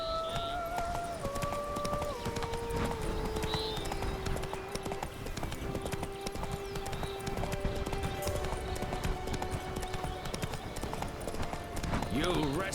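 Hooves of the horse Roach clip-clopping steadily throughout in The Witcher 3: Wild Hunt, mixed with music and game sounds.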